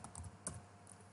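Quick, faint keystrokes on a computer keyboard during Thai typing practice, a short run of light clicks heard close by and alone.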